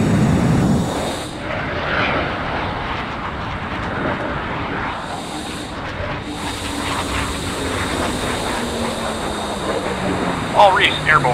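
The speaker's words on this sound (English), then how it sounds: "Trident 1 and 2 is taxiing runway 27" Military jets taxi toward runway 27, a loud continuous engine rumble and whine with a slowly shifting tone, while radio voices talk over it.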